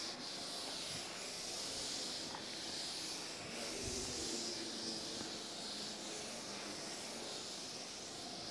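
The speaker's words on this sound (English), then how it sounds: "I'll just rub the board." A board is rubbed clean with steady, continuous scraping and hissing friction strokes, close and fairly loud throughout, with no talking.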